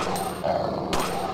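Zombie dogs growling in the game Resident Evil 2 Mortal Night, a brief low snarl with a sharp attack sound over game noise.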